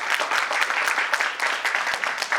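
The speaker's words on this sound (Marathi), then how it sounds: "जोरदार टाळ्या." Loud, steady applause from an audience at a reunion gathering, dense overlapping claps filling the hall continuously without a break.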